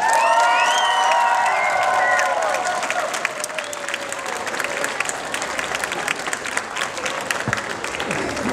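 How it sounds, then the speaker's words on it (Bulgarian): Applause from a large outdoor crowd rises and holds steady, then thins into scattered claps. A few whistles and shouts come through near the start. "Нека нашите следващи аплодисменти да бъдат за красивите булки и младоженци."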